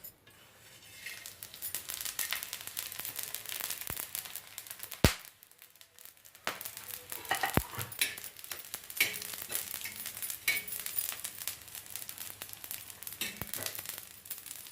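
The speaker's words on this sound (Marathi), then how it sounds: "हे मी मसाले पूर्ण एकत्र भाजून घेते" Spices and roasted coconut are dry-roasted together in a pan for an egg masala, giving a steady soft sizzle and crackle with the repeated scrape and clink of a spatula stirring against the metal.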